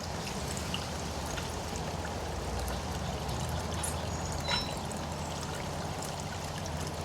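Water pours steadily into a DIY bog filter tank for a pond, a continuous splashing rush that stays close and even throughout, with no talking over it.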